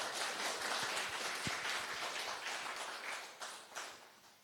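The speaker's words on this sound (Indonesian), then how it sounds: "Tepuk tangan buat Pak Bayu dan tim" Applause from a crowd at an agricultural training session, a dense patter of clapping heard at moderate distance, fading slightly toward the end.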